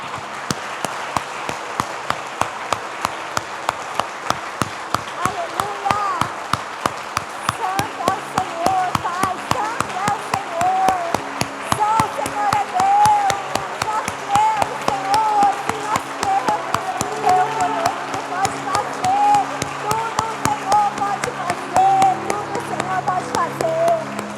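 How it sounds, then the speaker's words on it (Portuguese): A church congregation claps together in a steady, even rhythm, sustained and close, while voices sing and speak over the beat. "Aplauda o Senhor, queridos."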